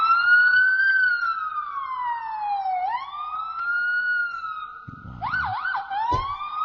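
A voice imitates a police siren, giving long rising and falling wails and then quick whooping yelps, close and clear, with no other talk.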